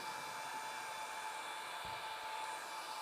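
Hot air welding gun heating the edge of a hygienic wall cladding sheet, giving a steady, loud, continuous hiss-like blowing roar close up throughout, with no talking.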